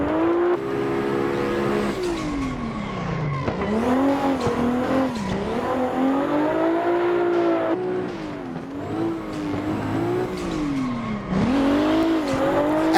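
A Toyota Supra drift car in Assetto Corsa screams through a continuous drift, its engine note rising and falling with throttle and tire squeal laid over it, loud and unbroken for the whole stretch.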